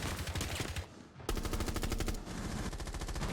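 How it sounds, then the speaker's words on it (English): Rapid automatic gunfire from a player shooting through a wall in a competitive shooter, loud bursts of repeated shots with a brief pause before firing resumes steadily. "So he shoots the wall where his head is."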